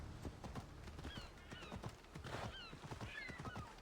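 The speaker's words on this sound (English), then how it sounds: "Come here, horse." Horse hooves clip-clop in the video game Assassin's Creed Odyssey, a quick, irregular run of soft thuds close by, with a couple of whinnies mixed in.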